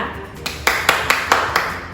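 A small group of children clap for their teacher's praise in a classroom, a handful of distinct, sharp claps in a loose rhythm, close and fairly loud.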